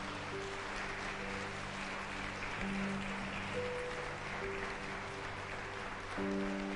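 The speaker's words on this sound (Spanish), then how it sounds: "Dale un fuerte aplauso al Señor." Sustained applause from a congregation at a Spanish-language church service, a steady wash of clapping over held organ or keyboard chords, moderately loud and continuous throughout.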